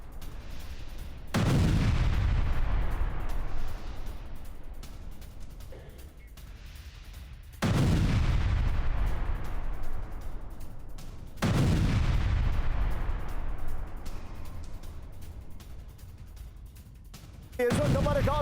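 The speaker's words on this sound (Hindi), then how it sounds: "थर्मोबैरिक ग्रेनेड से किया गया हमला" Thermobaric grenade blasts in an attack on a Russian T-80 tank: several heavy booms spaced seconds apart, each a sharp loud onset that fades into a long rumbling decay.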